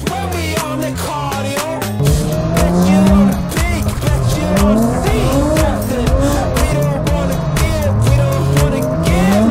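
A drift car at the Sochi Drift Challenge Matsuri screeches its tires continuously under a roaring, revving engine, loud and close, with pitch sweeping up and down through the slides.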